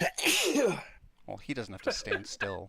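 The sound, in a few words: sneeze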